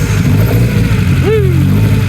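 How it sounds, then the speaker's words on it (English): A Lotus Elan twin cam engine on Weber carburettors idles with a low rumble, then gives one sharp rev that rises fast and falls away, close and loud. "Lotus twin cam with Webers"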